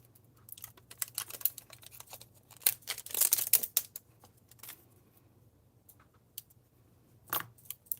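Hickory Smoke reinker ink packaging being unwrapped by hand, close-up crinkling and sharp plastic clicks in scattered bursts, busiest in the middle, with no voices.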